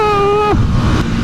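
A 2021 KTM 890 Duke R engine makes 121 horsepower and 99 Nm of torque. Its loud, close engine note holds steady, then drops sharply and gives way to rushing wind noise.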